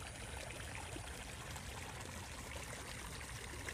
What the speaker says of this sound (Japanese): 今水の音が聞こえるでしょうかね